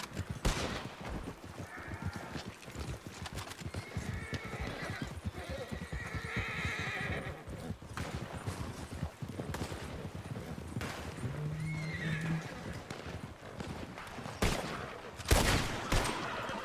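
A horse in Red Dead Redemption 2 Online neighs amid busy game sound, with hoof clatter and bursts of distant gunfire, plus sharp loud cracks near the end and a brief voice.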